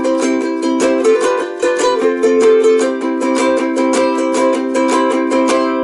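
A song strummed in a ukulele style: bright, rhythmic strummed chords in a steady bouncy beat, close and loud, with no singing or talk.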